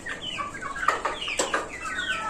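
A Brahma hen, drawn in by food after going unfed since the day before, clucks in quick, close bursts, alone with no talking.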